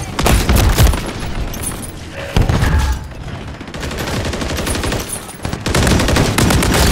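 Loud automatic gunfire in a military shooter video game comes in repeated rapid bursts with short pauses between them, while voices shout over the shooting.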